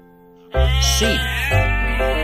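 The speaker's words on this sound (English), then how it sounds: "Sheep." After a brief quiet start, a sheep lets out one long, loud, wavering bleat close by, sustained to the end with no talk.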